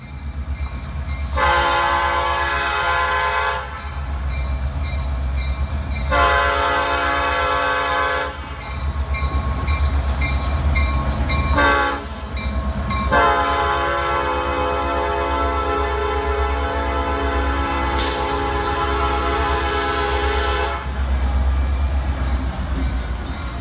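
Norfolk Southern Decatur Local freight train heading toward the former Illinois Central yard, with a loud diesel rumble throughout and several long and short horn blasts sounding close by, no talk.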